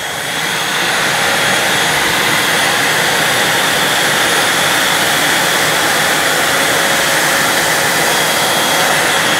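A Dyson V12 Detect Slim cordless vacuum and a plugged-in Eureka Blaze 3-in-1 stick vacuum run together, producing a loud, steady high-pitched motor whine and airflow roar after a quick start-up.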